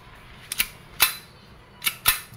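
An Umarex Glock 17 Gen 5 CO2 blowback airgun with a metal slide fires four sharp, metallic cracks in two quick pairs over a low background hiss, with no talking.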